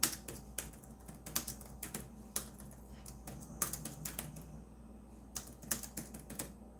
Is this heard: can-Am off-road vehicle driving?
no